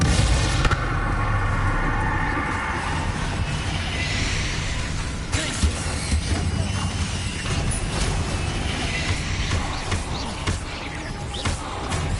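Confringo fire spells in Hogwarts Legacy burst in a string of loud, booming blasts amid crackling game effects and clatter, repeated several times over a dense, busy background.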